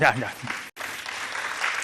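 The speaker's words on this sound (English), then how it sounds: "So give me applause" Brief applause from a panel-discussion audience welcoming two guests, thin scattered clapping that briefly cuts out, then resumes at moderate level, with a voice heard at the start.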